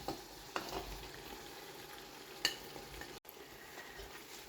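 Fried okra is gently stirred into a mutton stew, giving a quiet low sizzle with a few soft spoon scrapes and one sharp clink against the pot; no voices.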